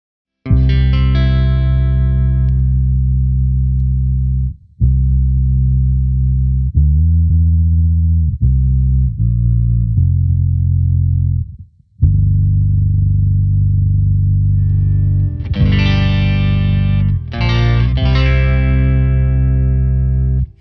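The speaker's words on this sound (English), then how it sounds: "let me just take out the dry signal so you can hear" A guitar runs through an OPFXS Dig Deep MK.3 sub-octave pedal with only the wet signal heard, producing deep, thick, fuzzy octave-down notes in a sequence of sustained phrases with brief gaps between them.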